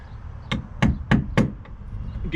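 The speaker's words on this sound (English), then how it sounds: "I'm gonna have to hammer it from the inside, which is fine." Hammer knocking a through-hull fitting out of a sailboat from inside the hull, four sharp metallic strikes in a fairly even rhythm, close and loud, with fainter taps before and after.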